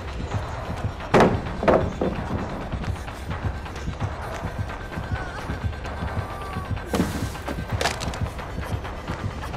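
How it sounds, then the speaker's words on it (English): Wooden pallet splintering and cracking as it is broken in Dead by Daylight, sharp woody impacts near the start and end over busy game ambience and footsteps. "Break the pallet, muchacho!"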